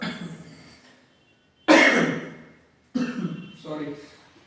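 A person coughs twice, close to the microphone, each a sharp harsh burst that fades out, with a short pause between them.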